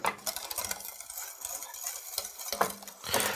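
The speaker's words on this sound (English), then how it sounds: "back to my whisk to get this all incorporated" Polenta being whisked with butter and cream in a pot, a quick wet scraping and stirring rhythm, close and fairly loud, with a few brief clinks of the whisk against the pan.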